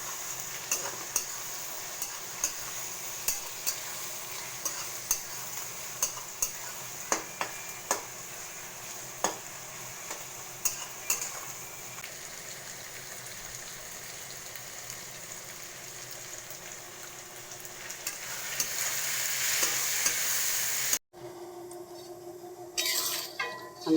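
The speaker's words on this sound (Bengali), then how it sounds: "আমি রসুন বাটাটা দিয়ে দিলাম। রসুনটা ভেজে নেবো" Garlic paste frying in a pan while matar ghugni is cooked, a steady close sizzle broken by regular scraping strokes of a spatula that swell into a louder hiss near the end.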